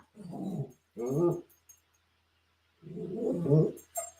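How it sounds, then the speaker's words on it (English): Dogs fighting close by, with three bursts of harsh snarling and growling separated by short pauses, then a brief final yelp. "I apologize for that dog fight."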